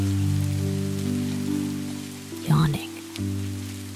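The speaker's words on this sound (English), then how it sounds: "listening to the raindrops tap against the leaves like a lullaby" Rain falls on leaves as a soft, even patter beneath gentle sustained lullaby-like tones, with a brief louder swell near the end.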